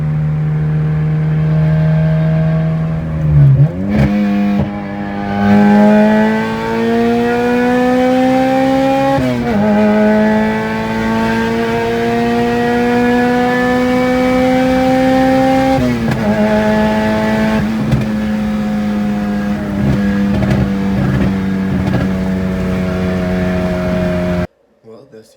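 An Acura RSX Type S runs steadily after a knock sensor and valve cover gasket job, its engine holding a smooth, loud idle that rises in pitch through a few revs before settling and cutting off.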